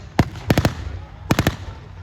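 Mauser rifle small arms fire at a WW2 battle re-enactment at Tankfest 2024, a sharp single crack followed by two quick volleys of three close-spaced shots, loud and outdoors.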